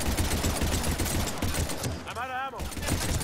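Dense, rapid automatic gunfire rattles continuously in a Mass Effect 3 firefight, a brief voice cutting through the barrage before the shooting resumes at full intensity.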